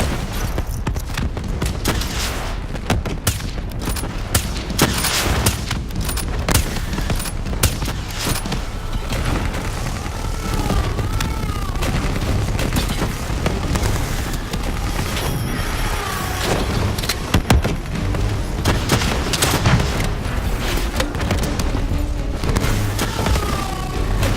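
Dense, continuous gunfire from a Call of Duty Black Ops 3 battle, with overlapping bursts, booms and mechanical clatter filling the whole stretch loudly and without pause.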